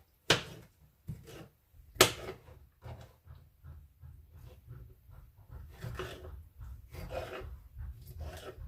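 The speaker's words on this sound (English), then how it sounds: "I'll go ahead and scrape the last bit in" A utensil scrapes the last bit of a pineapple dessert mixture into a bowl, producing a run of faint, close scrapes and taps in an irregular rhythm.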